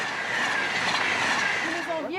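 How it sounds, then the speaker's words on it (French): A train rolls past on a railway track, with loud continuous clatter and a high metallic wheel squeal near the end. "qui préfère regarder passer les trains"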